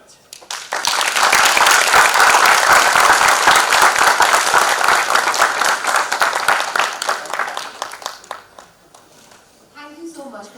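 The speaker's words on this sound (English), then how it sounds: "Let's have a huge round of applause once again." A lecture audience breaks into loud, sustained applause, building quickly and holding for several seconds before gradually thinning into scattered claps, with a voice speaking as it fades.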